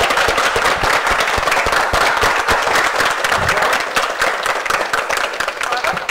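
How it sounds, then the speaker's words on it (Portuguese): A dense, loud wash of applause from a large audience at a television event, continuous and crackling throughout, with voices faintly mixed into the crowd noise. "Eu, se fosse vocês, eu agora aplaudiria a todo mundo."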